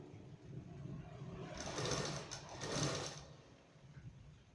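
A sewing machine stitching a shirt runs in a steady whirring hum, swelling in two louder bursts midway, moderately close, with no voices.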